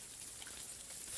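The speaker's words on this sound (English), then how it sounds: "Where'd the rain come from?" Rain falls as a steady, soft, even hiss within a music track, heard alone without voices.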